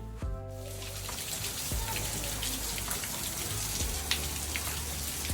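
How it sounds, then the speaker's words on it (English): Steady rain patters close by, with scattered heavier drops and a few sharper knocks over a constant hiss. "it's a rainy day where I am"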